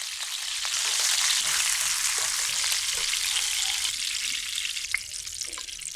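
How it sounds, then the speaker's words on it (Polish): Salmon pieces fry in oil in a pan, sizzling steadily and loudly, a continuous bright crackle with a few sharper pops near the end. "smaż kawałki łososia z drugiej strony"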